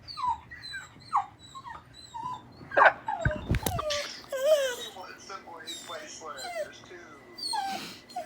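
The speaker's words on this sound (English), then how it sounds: "I'm sorry for my dog in advance" A dog whimpers and whines in repeated high, sliding cries with a few sharp barks, close and fairly quiet, while a person talks throughout.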